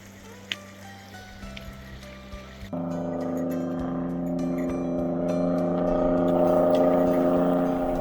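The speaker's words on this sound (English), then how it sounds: "Gotta love the sound of the Jake on a truck rolling south out of the Arctic." A heavy truck rolls along the gravel Dempster Highway in Northern Yukon, its engine brake rising into a steady, loud, droning rumble that builds and holds after a quieter stretch of outdoor background.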